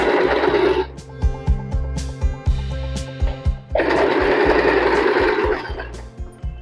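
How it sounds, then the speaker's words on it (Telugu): A sewing machine stitches a picot edge along saree fabric. Loud, close bursts of rapid mechanical rattling are separated by a pause of slower, rhythmic needle thumps and clicks. No speech. "ఇప్పుడు ఇలా పెట్టేసి ఇలా కుట్టుకోవాలి"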